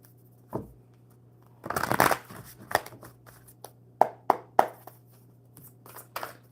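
Playing cards being shuffled close by: a quick riffling burst, then several sharp flicking snaps and taps of the deck, against a low steady hum.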